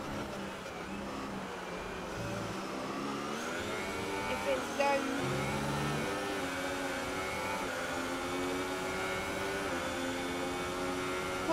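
Ferrari-engined racing cars in a wet United States Grand Prix race in a PS4 racing game, their steady rising and falling engine whine running continuously at moderate loudness beneath a commentator talking.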